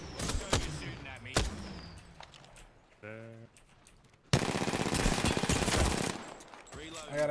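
Gunfire in the video game Apex Legends, sharp shots and a dense rattling burst near the end, mixed with other game effects and heard with talk from players.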